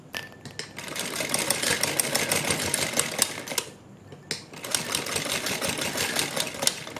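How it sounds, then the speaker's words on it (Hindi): Sewing machine running in steady bursts while stitching a lace border onto fabric for a kurti or suit slit, with a brief pause midway before the rapid mechanical whirring resumes, close and fairly loud. "यहाँ तक सिलाई लाके हम इस कॉर्नर पर इस तरह से सिलाई लगा देंगे।"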